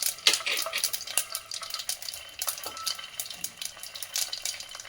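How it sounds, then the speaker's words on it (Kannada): Mustard seeds, cumin and curry leaves crackling and sizzling in hot oil for a ridge gourd palya, a dense close spatter of pops with faint utensil clinks throughout. "ಈಗ ಎಣ್ಣೆ ಬಿಸಿಯಾಗಿದೆ. ನಾನು ಸ್ವಲ್ಪ ಸಾಸಿವೆನ ಹಾಕ್ತಾ ಇದ್ದೀನಿ, ಸ್ವಲ್ಪ ಜೀರಿಗೆ, ಸ್ವಲ್ಪ ಕರಿಬೇವಿನ ಸೊಪ್ಪು"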